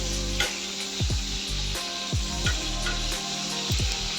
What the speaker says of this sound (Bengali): এই যে একটু লাল করে ভেজে নিলাম।